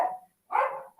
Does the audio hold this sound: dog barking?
yes